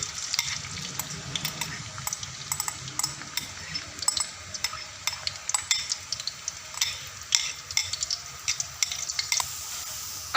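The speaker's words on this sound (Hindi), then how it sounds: "अब ये प्याज फ्राई हो चुका है।" Onions sizzling in hot oil in a pan, with steady frying crackle and frequent clinks of a spoon stirring against the metal, close and alone without talk.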